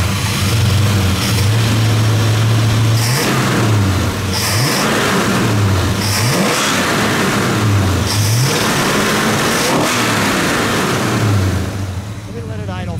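A 1967 Plymouth Belvedere GTX with a 426 Hemi and two four-barrel carburetors, heard up close as a loud idle broken by several sharp revs that rise and fall, with talk over it.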